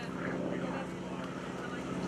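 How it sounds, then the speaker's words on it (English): Propeller drone of an aerobatic airplane flying a knife-edge pass at the 2013 Greenwood Lake Airshow, a steady engine hum heard through crowd noise and an announcer's voice. "You're going to get to see the airplane from the top."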